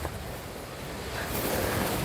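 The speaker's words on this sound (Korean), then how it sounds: "파도가 꽤 치네." Ocean waves breaking on the sandy shore at Naksan Beach, a steady wash of surf with wind noise that swells slightly louder in the second half, heard alone without voices.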